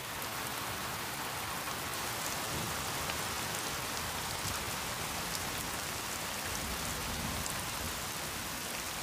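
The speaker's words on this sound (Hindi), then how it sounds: "फिर मूसलाधार बारिश होती है।" Torrential rain pours steadily on a tepui plateau, a dense, continuous hiss of heavy downpour that holds at an even level throughout with no voices.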